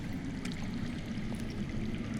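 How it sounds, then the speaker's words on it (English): Steady, low rushing of water flowing underground in the Game of Thrones video game, a faint continuous stream murmur with no other sounds on top. "That's water. I hear water. From underground."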